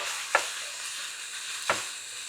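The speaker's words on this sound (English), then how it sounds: "We'll stir them in a bit." Spring onions stirred into a pan of lightly sautéed ham for mushroom risotto, a steady close sizzle broken by two sharp scrapes of the spoon against the pan.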